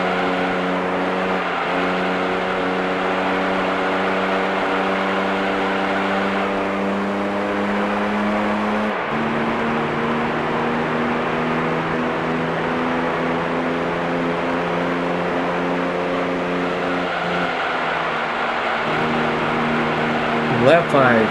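A Silver Arrow race car in a racing video game drones with a steady, loud, layered engine tone that drops and shifts pitch at gear changes, continuous throughout.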